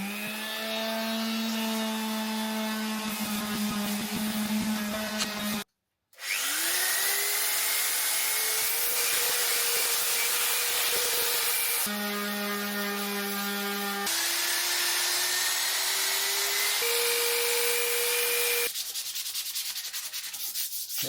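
Motorcycle wheel from a Harley Davidson Sportster XL1200 being rubbed down with 1200-grit wet and dry sandpaper, a steady rasping scrub with tonal squeals that shift in pitch, one brief gap, no talk.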